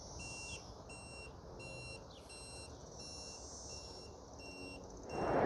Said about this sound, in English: the scooter also beeps, so you know when you have the turn signals on as well